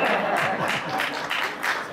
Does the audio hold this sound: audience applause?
yes